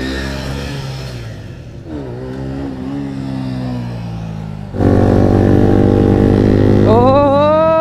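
Superbikes, Kawasaki Z900s and a Triumph Daytona 675R, rumble loudly at idle through their exhausts before a sharp, sustained rev surges the engine note higher, close and continuous with no talk.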